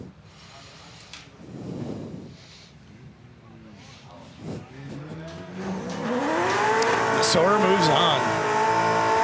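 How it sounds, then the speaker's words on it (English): Drift car at a drift competition spinning its tires in a burnout, engine revving with tire noise building and growing louder toward the end, under a commentator's voice. "Someone's rocking a big burnout."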